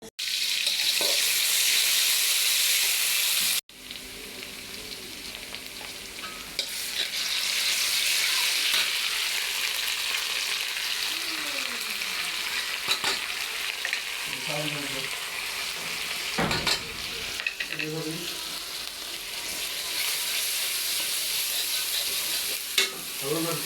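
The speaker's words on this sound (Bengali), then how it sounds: "এখন তরকারি রান্না করবো" Curry with a bowlful of spices frying and sizzling in a pan, a steady bright crackle that runs nearly throughout with brief stirring knocks and scrapes, after a short louder burst at the start.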